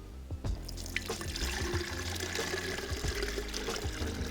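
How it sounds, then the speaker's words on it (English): Fresh coconut water strains through a strainer into a pitcher, a soft continuous pouring trickle with small splashes and clinks of the strainer, fairly quiet and close. "So then you take your strainer and you strain it into the other pitcher."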